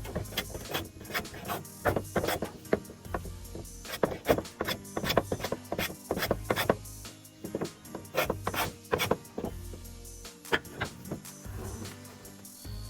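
Handmade plastic table parts are smoothed by hand in close, fairly loud rasping scrapes, repeated in quick, irregular strokes with short pauses and no talking.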